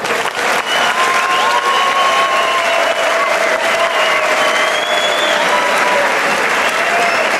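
Sustained, loud audience applause fills a Danish MMA fight arena event, steady clapping from a large crowd with scattered whistles and cheers throughout.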